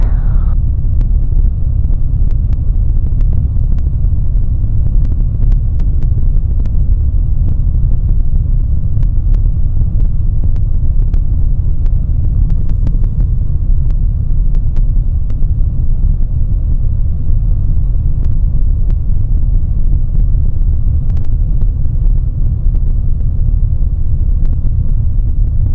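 Engine of a Zodiac 601/650 light aircraft throttled back during landing on the runway, a loud, steady low rumble heard from inside the cabin, unbroken and without talk.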